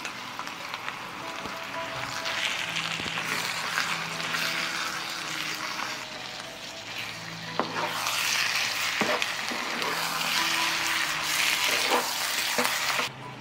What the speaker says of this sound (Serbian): Dodajem i meso i njega ću pržiti 10 minuta.